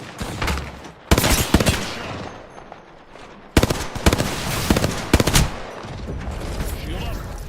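Video game gunfire: rapid automatic bursts that hammer in two dense volleys, loud and close, with lighter rattling shots and a faint voice in between.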